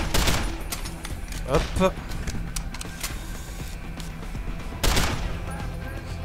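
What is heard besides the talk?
gunfire in video game Deus Ex Human Revolution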